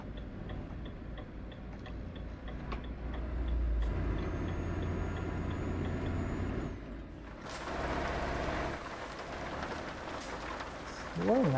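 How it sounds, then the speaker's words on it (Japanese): Heavy rain drums steadily on a truck in Euro Truck Simulator 2 while it drives on a Japanese road, with a faint ticking indicator and engine hum beneath, and a brief hiss of air near the end. "すごいな、雨の降り方が。"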